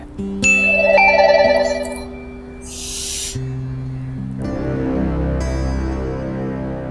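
A telephone rings with electronic tonal chimes, repeating over a few seconds, followed by lower droning tones and a brief hiss.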